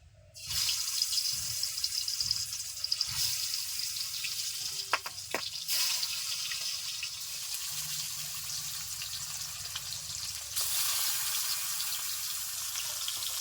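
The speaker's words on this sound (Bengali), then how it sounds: "এখন ভেজে নেব মাছগুলো ভেজে নিচ্ছি" Fish fry in hot oil over medium heat, giving a steady, close sizzling hiss that holds throughout with a few brief crackles and no talking.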